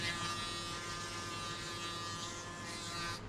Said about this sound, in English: Don't go to the next step until you hear nothing from the clipper.